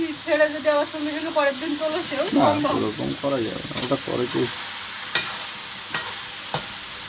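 Fish sizzles in hot oil in a Sundarban village kitchen, a steady close crackle and hiss. A voice talks over it at first, then the frying continues alone with a few sharp clanks.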